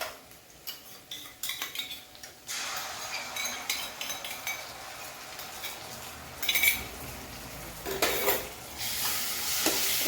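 Ginger garlic paste and red chili powder sizzle in a pan for paneer pulao while a utensil stirs and scrapes against the metal, with clinks and bursts of loud frying hiss building toward the end.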